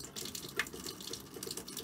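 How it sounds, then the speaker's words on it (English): Water runs steadily from a faucet in an M101 military offroad camper trailer conversion once the pump is switched on, a continuous close splashing flow with no voices. "So here's the switch to turn on the pump, and then you get your water flowing."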